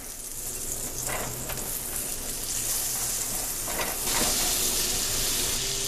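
Butter sizzling steadily in a frying pan on medium heat for burger patties, a continuous close hiss with a brief louder surge near the end.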